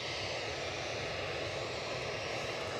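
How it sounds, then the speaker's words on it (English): Steady broadband roar of an easyJet jet airliner's engines at Edinburgh Airport, a continuous fairly loud rumble with no talk, fitting an aircraft passing just out of view on a drizzly day. "The noise you can hear is an easyJet."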